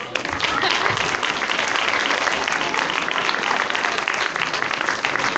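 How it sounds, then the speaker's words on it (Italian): Sustained, loud applause from the audience at a children's Snow White theater show, a dense even roar of many hands clapping throughout. "Un applauso a Aurora Rosa"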